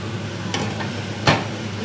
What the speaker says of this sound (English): And this is our beef that just went on fire.